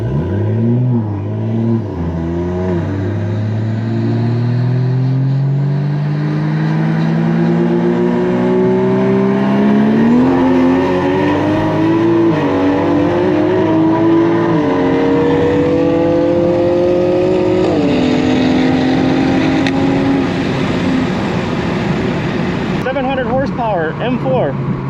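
A 500-horsepower MK5 Toyota Supra races a 700-horsepower BMW M4, its engine roaring loud and close as it climbs steadily in pitch through several gear changes, with a brief dip at each shift.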